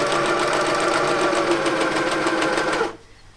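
A sewing machine stitching the side pieces to the front of a shirt runs at a steady, rapid, even pace close up, then stops abruptly near the end.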